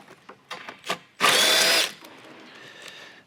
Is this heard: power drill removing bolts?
yes